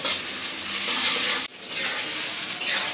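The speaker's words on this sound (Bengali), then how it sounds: "পেঁয়াজ, গরম মশলাটা একটু ভাজা নিব।" Chopped onion frying in hot oil with whole garam masala (cardamom, cinnamon, cloves, peppercorns) in a village Bangla kitchen, a steady broad sizzle with stirring scrapes, briefly dipping midway before resuming.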